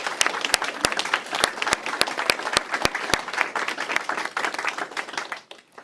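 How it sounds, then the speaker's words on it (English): Audience claps for students at a public school event, with sharp individual claps standing out at the start before the clapping thins and fades away. "to give an applaud to all the students."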